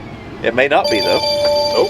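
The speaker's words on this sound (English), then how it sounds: "hopefully that's the phone call now" A phone rings in the cab of a Fendt 1038 tractor out planting wheat, a steady electronic ringtone tone sounding close and clear while someone talks over it.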